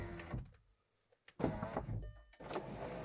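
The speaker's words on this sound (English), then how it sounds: "then it will start opening the side windows, and then the sunroof should open next" Electric side windows on a VW Eos convertible whir as they lower, a motor hum starting and stopping in short close bursts with faint mechanical clicks between them.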